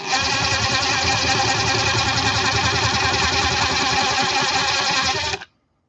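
Machine cutting aluminum at low RPM, a steady mechanical whir with a dense grinding hum held continuously at close range, ending abruptly as it shuts off near the end.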